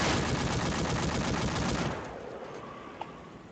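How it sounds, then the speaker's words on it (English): Enemy gunfire in Arma rattles in a dense, sustained burst during a convoy defense mission, then cuts off abruptly, leaving quieter background ambience with one faint sharp pop. "Enemy fire!"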